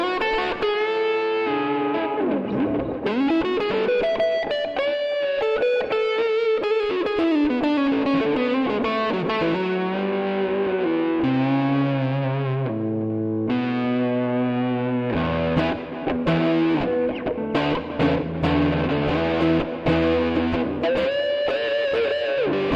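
Electric guitar through an AmpliTube 5 rig with a compressor and tube screamer in front, Pultec EQ and delays, plays sustained overdriven chords and bends in a thick, saturated, continuous tone with trailing echoes, loud and without talking.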